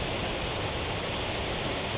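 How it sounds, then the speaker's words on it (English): A waterfall in the Brecon Beacons rushes with a steady, dense roar of falling water, close and unbroken, with no voices over it. "This is a waterfall extravaganza today."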